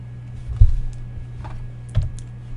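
Short bursts of typing on a computer keyboard, a few sharp clicks and light taps spread across a couple of seconds over a steady low hum, with no voices.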